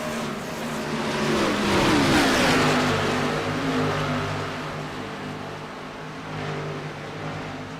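Race cars in the Down Range Transport Premier Series on the Las Vegas oval swell up loud as they accelerate past, engines roaring by and fading off, then a further car approaches in the distance.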